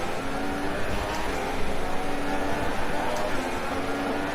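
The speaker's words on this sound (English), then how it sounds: "Having to downshift so much in these corners just to get the front end to turn in." A Sauber Formula 1 car in the F1 2016 video game, racing at the China round, with a steady engine roar that holds through the corners under a speaking voice.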